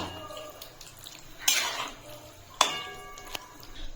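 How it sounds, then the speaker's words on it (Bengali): White sauce pasta loosened with a little pasta water is mixed in a pan, with two sharp utensil clinks against the metal over a quiet wet stirring background. "ভালো করে মিশিয়ে দিলাম।"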